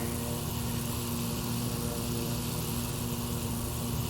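Steady propeller drone of an Extra 330 aerobatic plane's engine in the X-Plane 11 flight simulator, loud and constant with a low hum and no voices.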